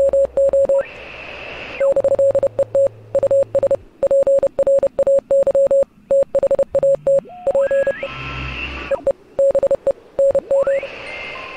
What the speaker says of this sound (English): I think it's just Morse code, basically.